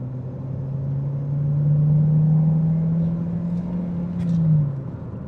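A high-mileage Ford Focus with automatic transmission accelerates on an open road, its engine droning in a steady rising hum heard from inside the cabin, swelling then easing off near the end.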